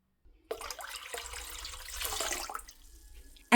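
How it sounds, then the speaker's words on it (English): Water pours steadily into a homemade golden apple drink, a soft splashing trickle that swells and then tapers off in a quiet kitchen. "add 2 cups water to reduce the strength of the golden apple"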